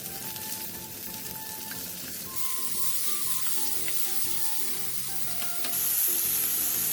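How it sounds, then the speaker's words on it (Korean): Zucchini, pine mushrooms and salted shrimp stir-fried in oil over high heat, giving a loud, steady crackling sizzle with occasional stirring scrapes that swells louder near the end. "팬에 기름을 두르고 애호박, 송이버섯, 새우젓 2분의 1을 넣고 센 불에서 2분 정도 볶아주세요."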